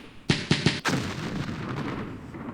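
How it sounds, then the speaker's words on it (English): Artillery strikes in a Campaign Series Middle East war strategy game set in the Arab-Israeli War: three sharp booming blasts in quick succession, then a fourth heavier impact that fades into a long rumbling roll. "Artillery strike from us. Artillery strike from them."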